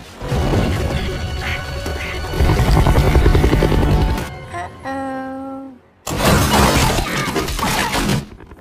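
A missile strikes a bridge in an action film with a helicopter nearby, giving a loud roaring blast and crashing debris, then a brief pause with a ringing tone before another heavy burst of rumbling destruction.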